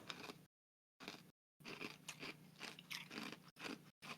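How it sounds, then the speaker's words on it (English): A person chewing ice, loud close crunching and biting in bursts broken by brief silences, no talking. "We can hear you chewing."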